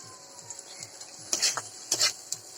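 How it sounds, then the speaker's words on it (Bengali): Pangas fish curry masala is stirred in oil in a pan, with soft sizzling and a few louder scraping strokes of a spatula near the end, close and fairly quiet. "এখানে আমি কিছুক্ষণ নেড়ে চেড়ে নেব।"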